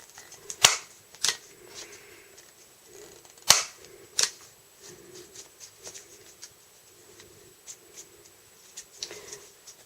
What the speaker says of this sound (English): I suggest that you have a heavy-duty corner rounder.